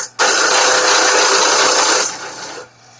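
Angle grinder cutting through a catalytic converter core, a loud, steady high-pitched grind sustained for about two seconds before trailing off as the tool spins down.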